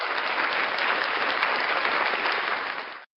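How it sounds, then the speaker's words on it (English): A studio audience gives a steady round of applause for a morning-show helper, dense even clapping filling about three seconds at moderate level before cutting off abruptly. "Ladies and gentlemen, another round of applause for the gorgeous Ray Ray."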